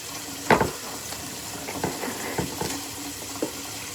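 A knife cuts through a pineapple in a few crisp, wet crunches and scrapes, with one louder stroke followed by quieter slicing sounds against a soft background hiss.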